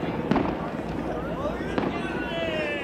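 Canada Day fireworks in Victoria, BC, with two sharp bursts about a second and a half apart against a steady crowd murmur. People talk quietly throughout, and whistling trails of rising shells can be heard between the bangs.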